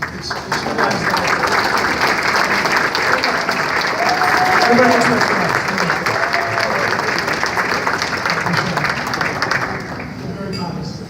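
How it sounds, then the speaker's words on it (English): Sustained applause from a large audience at a precinct fellowship conference, steady dense clapping for about ten seconds while someone speaks over it on a microphone. "we're going to give you a round of applause"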